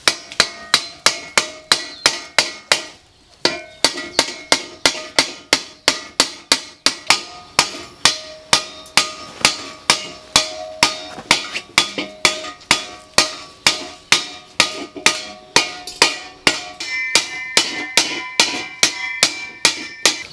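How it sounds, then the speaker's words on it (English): A hammer beats the soft steel top of an old gas bottle flat in a steady run of sharp, ringing metallic blows, loud and close and evenly paced. "I'm going to just hammer this down, because it's"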